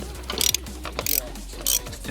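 A ratchet with a 15mm socket on long extensions working on a crashed 2016 Mustang GT, three quick bursts of close, crisp clicking, no talk.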